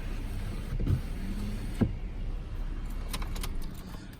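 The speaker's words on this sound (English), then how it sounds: "Do have a power sliding rear window in the back." Power sliding rear window on a 2017 Ford F-150 SuperCrew Cab truck, a quiet steady motor hum with a couple of soft clicks and knocks, close by and alone.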